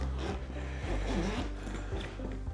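The zipper of a hair dryer case is drawn open in a long continuous pull, close and fairly quiet, with a soft scraping texture and no voices.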